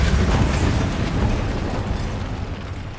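A Bombarda blasting spell detonates in Hogwarts Legacy, a loud, broad burst at the start that rumbles on as a dense low roar and slowly fades over the next few seconds.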